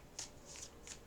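Tarot cards being shuffled by hand, three quick soft riffling bursts at close range over quiet room tone.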